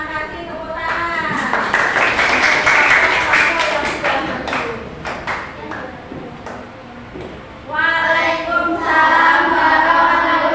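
Brief scattered clapping from a classroom or workshop audience during an Indonesian computational-thinking session, a short burst of hand claps mixed with voices, with people speaking before and after.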